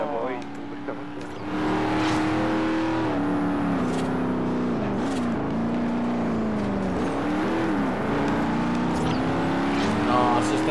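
A race car engine in a Forza Horizon-style racing video game drones and revs continuously at a strong level, its pitch rising and dipping through gear changes, with someone talking over it.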